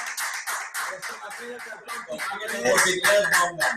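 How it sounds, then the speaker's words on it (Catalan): An audience claps in a quick, fairly even rhythm at close range, and voices and chatter rise underneath as the clapping goes on. "això es mereix un aplaudiment"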